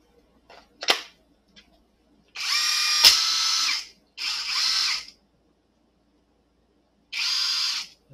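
A small Nanwei cordless impact wrench rated at 350 N·m whirs in three loud bursts, each a second or two long. Faint clicks and taps sit in the quiet gaps between them, with no talking.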